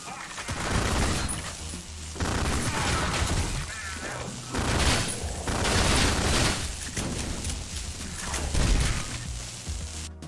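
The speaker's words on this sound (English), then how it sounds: "Exploding grenades right in your face" Grenades explode in the retro shooter Ion Maiden, with a run of loud, crunchy blasts and gunfire surging in waves over ten seconds, dense and close.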